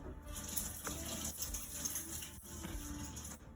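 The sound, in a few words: rinsing swordfish under running tap water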